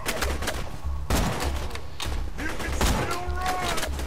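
Gunshots in Borderlands 2, several loud, sharp cracks spaced about a second apart over a pulsing game soundtrack, with someone talking over them.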